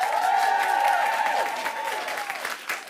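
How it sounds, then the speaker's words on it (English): An audience applauds and cheers to vote for an improv show, a dense wash of clapping with whoops and a sustained whistle, fading slightly toward the end. "So cheer for the one that you really want to see."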